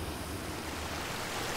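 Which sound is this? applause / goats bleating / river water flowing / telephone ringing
river water flowing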